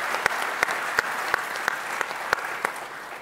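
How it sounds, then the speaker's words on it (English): Audience applause at an international gas seminar summit, a loud burst of many hands clapping, with a few sharp individual claps standing out in a rough beat. "we'd like to have a round of applause for Equatorial Guinea"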